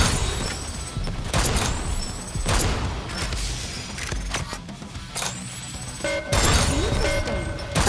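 Firecrackers explode in the Goddess of Victory: Nikke video game, giving dense, continuous crackling bursts and crashes under layered game effects and sweeping tones.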